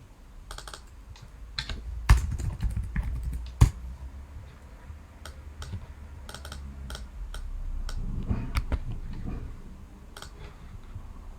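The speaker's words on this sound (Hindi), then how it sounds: "मैं यहाँ टाइप कर देता हूँ।" Typing on a computer keyboard, a steady run of soft key clicks with a few louder sharp taps, close by and alone over a low background hum.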